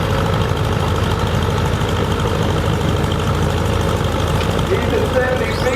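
A Ford 4000 tractor's engine runs steadily during a tractor pull, a low, even, fairly quiet rumble that holds constant throughout with a broadband mechanical drone.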